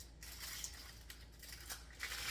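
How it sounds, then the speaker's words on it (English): Scissors snip through a plastic piping bag loaded with meringue for mini lemon meringue pies, giving a few crisp, close cuts and crunchy rustles against a steady low kitchen hum. "Snip off what I need."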